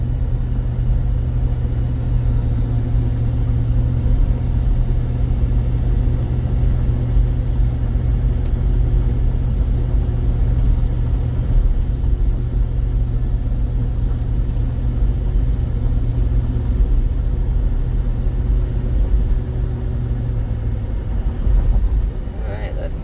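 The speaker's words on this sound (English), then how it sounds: "Driving pretty well going up this hill." A 2005 GMC Yukon climbs a hill, its engine a steady, close, low droning rumble with constant road noise inside the cabin, easing slightly near the end.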